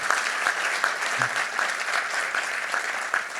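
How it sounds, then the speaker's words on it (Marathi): Sustained audience applause at an awards ceremony honouring everyday heroes, dense steady clapping with no pauses throughout, fairly loud and even in level. "अरे मोठ्या टाळ्या झाल्या पाहिजे."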